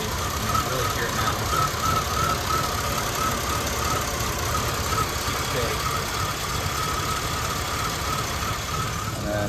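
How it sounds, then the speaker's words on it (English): A car engine idles roughly and starts bogging down as the EGR solenoid is opened further, a steady, uneven, knocking rumble held close and continuous throughout. "you can hopefully hear the engine start bogging down"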